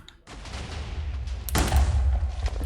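Cannons fire a test shot in a video game, a sudden loud boom followed by a rumbling, rolling low barrage of blasts that keeps building and stays heavy to the end.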